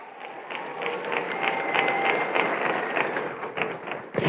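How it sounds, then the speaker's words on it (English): Graduation ceremony audience clapping, thin and fairly distant across a hall, building slightly and holding steady before tapering, with a louder bump at the end. "Clap that one out."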